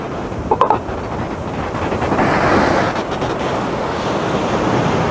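Ocean waves wash onto a beach on Nan'ao Island, China, in a loud, continuous surging roar buffeted by heavy wind noise, with a brief knock near the start and no talk.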